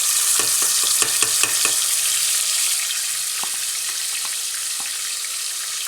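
Crushed fennel and coriander seeds sizzle in hot oil while being stirred for a kalaji dish, with a steady frying hiss and a run of quick spoon scrapes and taps that thin out into a few scattered knocks.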